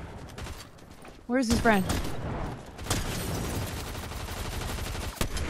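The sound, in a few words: gunfire in a video game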